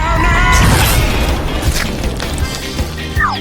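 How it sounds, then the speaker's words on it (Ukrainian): A chocolate fountain exploding: a short, loud burst and crash with splashy, cartoonish effects, followed by a few smaller thuds and whooshes over about three seconds. "Я заткну шоколадний фонтан. Що ти наробила? Зараз він вибухне."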